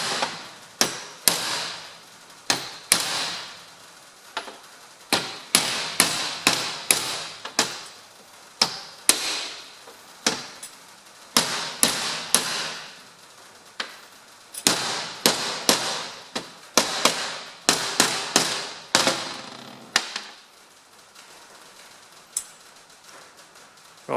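Repeated sharp metallic hammer blows strike a spanner while overhauling a John Deere tractor's power steering column, coming in rapid bursts of close, loud clanks with short pauses between, no speech.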